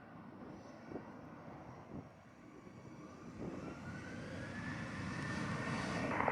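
A fixed-wing airplane taking off from runway 07 at Montego Bay, its engine roar swelling steadily from a faint distant rumble to a loud, close rush by the end, with no voices.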